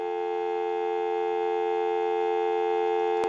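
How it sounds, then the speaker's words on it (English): Steady dial tone from a TA-1042 military field telephone handset, a constant even hum held without a break, alone and fairly quiet. "That will give us dial tone again."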